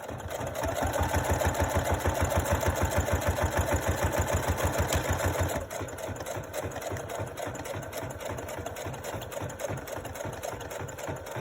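A sewing machine stitching a paper pocket for a junk journal made from book pages runs in a steady rapid mechanical rhythm, then continues at a slightly quieter, looser pace after a brief change midway.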